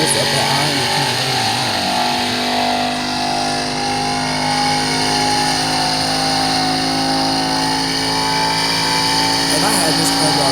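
Car engine revving from an engine sound app, a loud sustained drone holding high revs throughout, with a voice talking over it.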